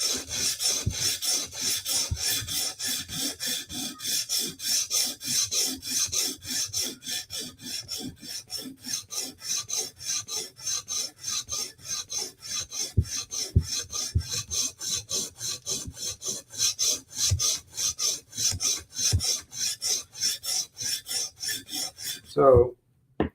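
Blade being sharpened by hand, a long run of quick, even rasping strokes near at hand, steady in rhythm, ending with a brief clack.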